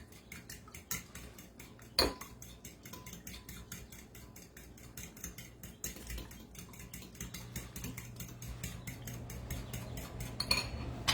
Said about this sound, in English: I'm going to get my eggs mixed while I'm waiting on that pan to get hot.